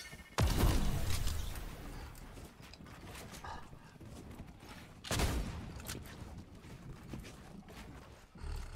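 Gunfire in Fortnite comes as two loud, sharp bursts of shots roughly five seconds apart, with quieter crackling and game noise in between and little talk.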